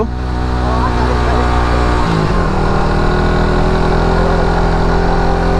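An overheated motorcycle engine runs steadily after a steep uphill climb, a loud, close, continuous mid-pitched drone that shifts in tone around the two-second mark and then carries on without a break.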